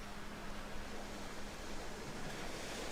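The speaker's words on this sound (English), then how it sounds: "I can hear ocean." Steady ocean surf wash with a low hum heard in a spacecraft re-entry cockpit simulator game after splashdown, a continuous broadband rush at moderate level with no talking.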